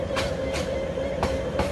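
A train passing in a Bangladeshi train video game, a continuous rumble with a steady mid tone and evenly spaced clicking wheel beats.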